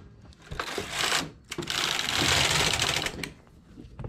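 A knitting machine, made heavy with weights, knitting a separate collar: two rhythmic clattering passes of the carriage, the second longer and louder, with brief quiet gaps and no talk.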